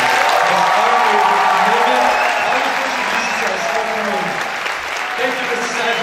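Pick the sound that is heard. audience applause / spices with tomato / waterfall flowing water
audience applause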